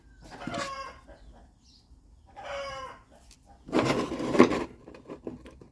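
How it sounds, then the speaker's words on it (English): A farmyard rooster crows three times in close, loud bursts, each a harsh drawn-out call with short pauses between, heard alone with some background hen noise. "Bloody rooster."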